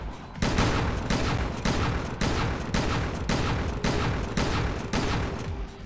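Repeated shotgun blasts from a video game weapon in Resident Evil Revelations 2 Raid Mode, about seven loud booming shots in a steady rhythm, each with a short ringing tail, close and dominant throughout.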